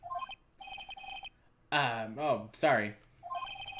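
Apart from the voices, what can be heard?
phone ringing after redial in Phoenix Wright: Ace Attorney video game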